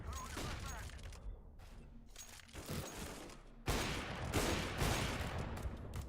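Counter-Strike gameplay with AWP sniper rifle shots and other gunfire keeps going throughout, with dense, loud bursts and a sharp jump in intensity partway through.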